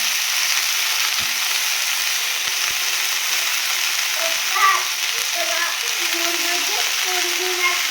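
Fresh chickpea greens roasting in a hot pan, giving a steady, fairly loud frying hiss with a few faint stirring scrapes and light knocks.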